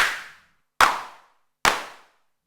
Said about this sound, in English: Experiment with the envelopes, the speed of the sawtooth and the VCF, frequency and Q to get different clap sounds.